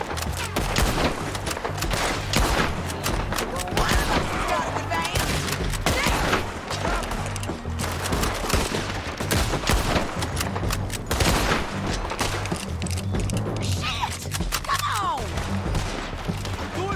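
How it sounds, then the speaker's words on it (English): Dense, loud video game gunfire from Red Dead Redemption 2, with rapid overlapping shots and booming reports running continuously, mixed with game sounds and occasional voices. "I'm firing!"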